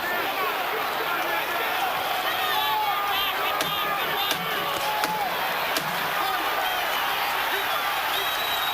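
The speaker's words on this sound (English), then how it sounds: "The old man has gone the distance, and the crowd at the Atlantic City Convention Center comes to its feet to applaud that" A boxing arena crowd at the Atlantic City Convention Center applauds as the Holyfield vs. Foreman fight reaches the final bell of the 12th round. A dense, steady roar of clapping and cheering fills the whole stretch, with occasional sharper claps and thuds.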